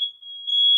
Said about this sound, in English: Ah, fire alarm!